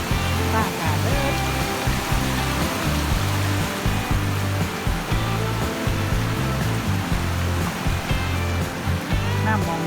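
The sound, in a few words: flowing floodwater stream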